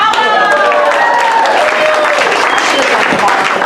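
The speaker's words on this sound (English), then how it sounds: "a nice round of applause for Alba" Applause from an improv comedy audience for a performer, loud and continuous, with a faint sung or tonal voice trailing at the start and some crowd noise mixed in.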